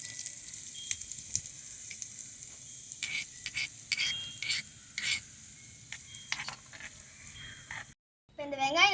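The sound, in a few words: onions frying in oil in a miniature pan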